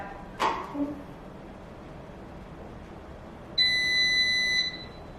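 A soft tap, then after a pause a darkroom exposure timer gives a steady electronic beep for about a second, clear and fairly close in a quiet room.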